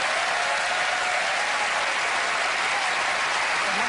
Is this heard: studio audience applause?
yes